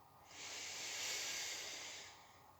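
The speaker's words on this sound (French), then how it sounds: "Inspirez profondément." One slow, deep breath is drawn in through the nose as a long airy hiss that builds, peaks and fades over about two seconds, close and quiet with nothing else heard.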